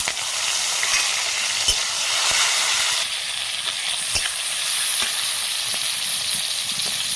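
Chopped tomato hitting hot oil in a pan with chillies and salt, a strong continuous sizzle and hiss with occasional stirring scrapes and taps, close and steady throughout.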